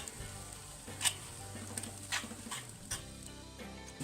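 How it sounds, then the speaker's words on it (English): A spoon stirs mustard into a vegan pulled mushroom mixture in a pan, giving a faint, soft sizzle with light scraping and a few sharper clicks. "Just going to give that a mix in."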